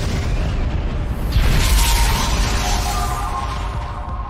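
A loud, roaring anime explosion with a deep rumbling boom, swelling and then sustaining a dense crackling roar over a few seconds.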